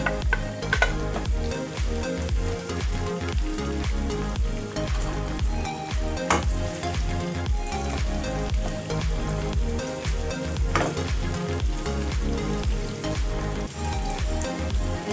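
Onion sizzling loudly in olive oil in a pan while being stirred for callos, a steady dense crackle and hiss with scraping stir strokes throughout.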